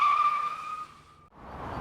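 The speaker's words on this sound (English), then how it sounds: "Dylan rips violently through the red light with a screech of tires" A car's tires screech sharply as it tears through a red light, a loud sustained squeal that fades and cuts off, followed by a brief rush of engine and road noise.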